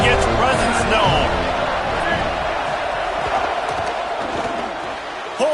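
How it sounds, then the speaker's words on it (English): Stadium crowd at a Florida State college football game, a loud, steady broadband roar that holds throughout with a brief swell at the end, while a commentator talks over it. "This crowd ready to make its presence known."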